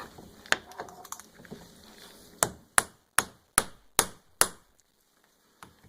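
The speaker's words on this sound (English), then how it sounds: "Take our hammer, want to line that back up." A hammer striking a CV axle during boot replacement, six sharp metallic blows in a quick, even series after a few lighter taps and clatter, close and loud.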